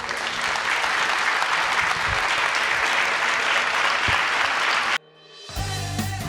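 A large crowd applauds loudly and steadily for several seconds at a comics event, then the clapping cuts off abruptly and music begins.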